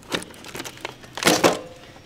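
A knife slicing through the fiberglass tube and wrapping of a Halo-themed firework shell on a wood base gives a few short crinkling, tearing scrapes, with two louder strokes close up near the end.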